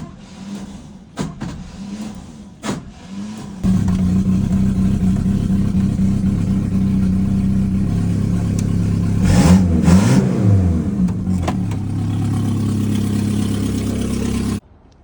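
A GMC Sonoma pickup truck engine cranks with a few sputters, then starts and runs loudly, revving up briefly in the middle before cutting off.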